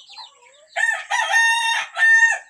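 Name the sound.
fighting rooster crowing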